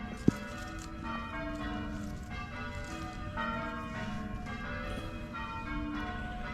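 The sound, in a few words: church bells ringing, bell practice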